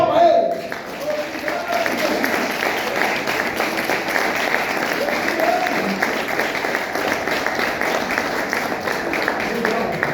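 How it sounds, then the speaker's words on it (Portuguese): Church congregation applauding during an Easter sermon, a dense, even wash of clapping that holds steady throughout, with some voices mixed into the crowd noise. "Dê uma salva de palmas a ele."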